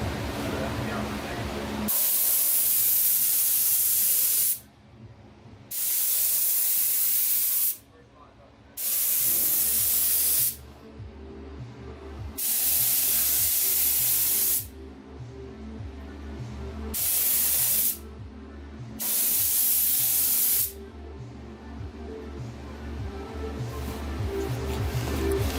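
Clear coat sprayed onto a Datsun 280Z engine bay, six loud sustained hissing bursts of a few seconds each, separated by brief pauses, with a faint steady hum underneath.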